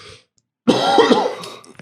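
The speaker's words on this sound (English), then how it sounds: "I'm going to clear my throat and get a sip of water before the." A man clears his throat once in a single loud, rasping burst lasting about a second, heard close and alone after a short silence.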